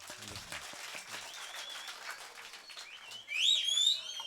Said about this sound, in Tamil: தம்பிக்கு ஒரு கைதட்டு கொடுக்கல எல்லாருமே